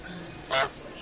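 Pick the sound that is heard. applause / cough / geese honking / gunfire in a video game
geese honking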